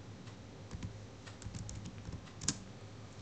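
Steady keystrokes on a computer keyboard as a function name is typed into a spreadsheet macro, a run of light close clicks with a few sharper taps over a faint hum.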